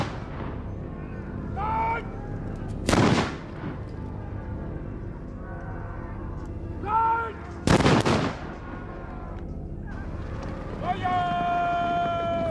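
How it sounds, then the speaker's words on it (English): Musket volleys at the 1575 Battle of Nagashino: two heavy booming shots a few seconds apart over a steady low battle rumble, with shouting voices and a sustained horn-like tone near the end. "In 1575 at Nagashino Castle, the Takeda clan for the first time braved musket fire."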